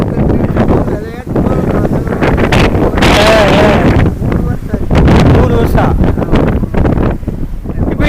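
Strong wind buffets the microphone on a steep Shiva temple hill, roaring and gusting loudly throughout in uneven surges, with a voice briefly audible beneath.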